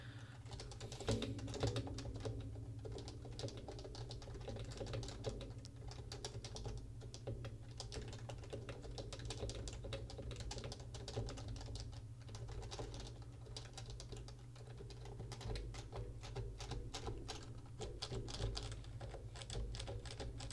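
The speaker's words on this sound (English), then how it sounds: "I'm just going to give a little typing demo here." Close, steady typing on an HHKB Professional Classic keyboard: a continuous run of crisp key clacks at a relaxed, even pace for about twenty seconds, with no talking.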